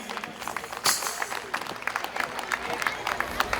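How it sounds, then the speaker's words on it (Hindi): Scattered audience clapping at an outdoor Dussehra celebration in Brampton, Canada, with a sharp burst near the start and uneven claps continuing at moderate volume over a murmuring crowd. "इनको बहुत तालियां दीजिए"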